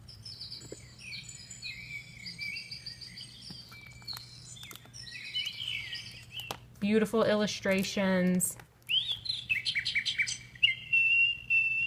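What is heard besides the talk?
garden sounds from sound book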